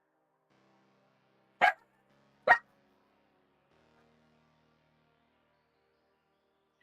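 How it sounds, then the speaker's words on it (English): A small Pomchi dog gives two sharp, isolated barks about a second apart, close by and loud, against an otherwise near-silent room. "Sorry about the barking."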